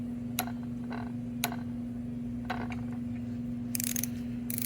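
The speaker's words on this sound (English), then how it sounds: "The flywheel bolt torques down to 22 foot-pounds, so we'll go ahead and torque that" A torque wrench tightening a flywheel bolt to spec during a Tecate 4 engine rebuild, giving a few sharp isolated clicks over a steady mechanical hum, with a brief rattling burst near the end.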